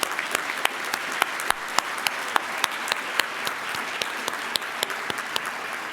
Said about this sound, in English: Tim, round of applause for all of these guests.